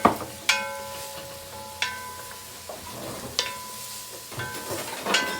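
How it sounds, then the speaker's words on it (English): Onions and mushrooms sweating in a soup pot with a soft, low sizzle, broken by a few sharp metallic clinks of a utensil against the pot at irregular intervals. "We're going to let our onions and our mushrooms tenderize."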